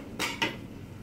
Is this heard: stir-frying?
yes